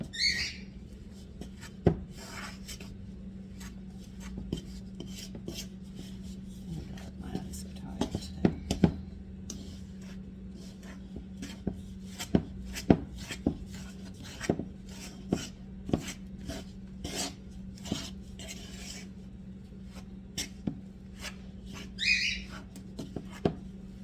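A fork scrapes and taps through mushroom scone dough in a bowl, giving a steady run of short clicks and scrapes close by, with quiet whispered talk and a low hum underneath.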